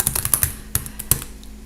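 Quick, close typing on a computer keyboard, with a burst of rapid clicks followed by a few scattered, sharper keystrokes and no voices.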